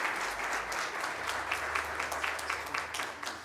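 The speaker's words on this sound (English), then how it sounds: "Can we give him a round of applause?" An audience at a school debate competition in West Rand claps continuously, with no voices on top. The applause is moderately loud and has a slightly uneven rhythm.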